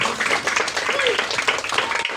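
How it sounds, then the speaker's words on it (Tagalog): A crowd claps and cheers in a loud, busy burst of applause, with voices shouting over the clapping. "Palakpak ng malakas dyan."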